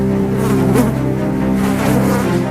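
Houseflies swarming in Karachi make a steady, close, droning buzz that holds at an even loudness for the whole stretch, with no voices over it.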